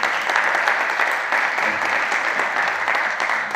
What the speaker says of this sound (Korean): 박수로 좀 맞이해 주시기 바랍니다